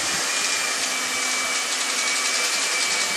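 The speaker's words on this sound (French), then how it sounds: "on va commencer par mixer notre Philadelphia au batteur pour qu'il soit un peu plus facile à travailler" An electric hand mixer at medium speed beating Philadelphia cream cheese for a carrot cake frosting: a steady, close whirring hum with a high-pitched motor whine, constant and unbroken, no voices.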